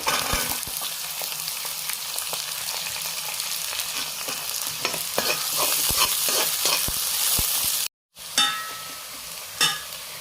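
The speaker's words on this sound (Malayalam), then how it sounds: "ഇനി അതിലേക്ക് ഉള്ളി ചെറുതായിട്ട് അരിഞ്ഞ് വെച്ചാൽ ഉള്ളി നമുക്ക് ഇട്ട് കൊടുക്കാം" Chopped onions frying in a pan for puli inji, a ginger-tamarind dish, with a continuous close sizzle and frequent stirring clatters, broken by a brief pause before the sizzle resumes.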